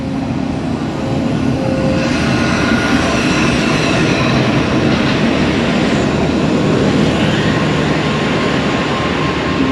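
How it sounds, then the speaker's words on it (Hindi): The Karachi Express, a Pakistani passenger train with a GU40 locomotive, pulls into Raiwind Junction station with a loud, steady, continuous rumble of wheels and engine, close by and without voices. "16 down Karachi express Raiwind junction railway station पर पहुंच गई है।"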